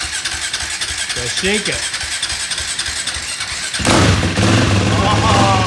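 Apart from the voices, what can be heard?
three-wheeler motorcycle engine being started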